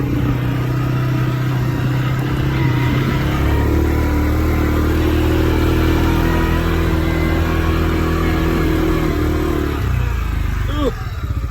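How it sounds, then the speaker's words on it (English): A quad bike in two-wheel drive runs steadily along a lane in the rain, its engine droning loud and close with a shift in pitch midway, ending with a brief rattle. "one-handed on the quad bike, two-wheel drive."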